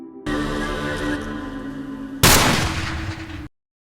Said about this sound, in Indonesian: Namun saat berbalik, Damien sudah lebih dulu membidik dan menembaknya.